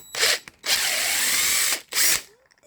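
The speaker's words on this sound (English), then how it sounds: "I finally got these these bolts cracked on here." Impact wrench or drill whirring in three bursts, a short one, a long steady run and another short one, loosening bolts on an LS swap engine in a G-body car, close and loud, no talking.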